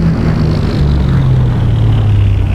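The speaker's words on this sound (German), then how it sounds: "ich habe hier ein Flugzeug aus dem Zweiten Weltkrieg, das kann querbeet." A WWII-era propeller airplane in X-Plane 11 taxies across a grass strip, its engine giving a steady, loud, continuous drone with a low throbbing hum throughout.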